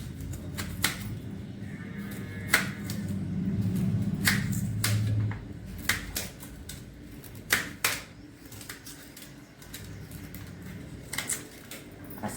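A knife chops carrots finely, a series of sharp, irregular taps and clicks on a board, close and distinct, with quieter gaps and a low background rumble early on.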